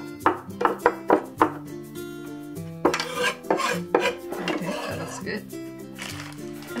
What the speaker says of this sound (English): we'll mince the garlic.